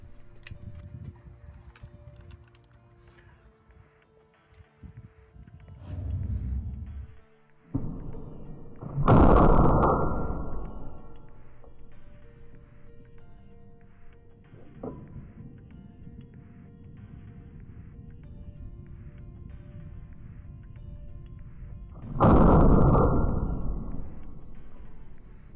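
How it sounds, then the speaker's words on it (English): A Russian SKS rifle is loaded and fired, with scattered metallic clicks and mechanical handling noises followed by two loud, sharp shots separated by a long gap, each ringing out with a booming tail. "Here's some footage of me loading and shooting my Russian SKS in slow motion."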